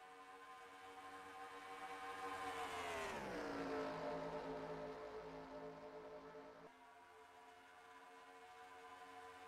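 Race cars roar past at speed on the Michigan track, a high engine whine that swells, falls sharply in pitch as a car passes, then continues as a steadier drone, heard without talk.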